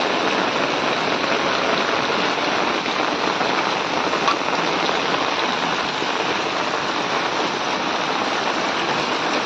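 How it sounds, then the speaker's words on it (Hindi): Steady, dense rainfall pours down without letup on a goat farm, a loud continuous hiss of drops striking surfaces nearby, with no voices. "इधर देख सकते हो कंटिन्यू बारिश चालू है।"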